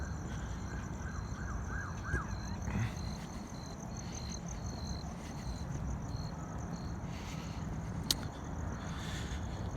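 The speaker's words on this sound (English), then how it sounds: "Oh, more sirens, fun times." Emergency vehicle sirens wail faintly in the distance on a neighborhood evening, drifting over a steady bed of chirping crickets and insects.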